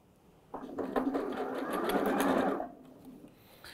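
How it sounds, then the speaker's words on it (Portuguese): A sewing machine runs a straight stitch through a satin cap with lace, starting abruptly, whirring steadily and closely at moderate speed for about two seconds, then stopping, with quiet room sound before and after. "e vou fazer essa costura com ponto reto. E aí você pode ir costurando devagarzinho, não precisa acelerar tanto."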